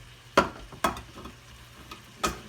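Old-school venison chili cooks in a pot with a soft low simmer, broken by a few sharp, close clicks and knocks of a spoon or lid against the pot.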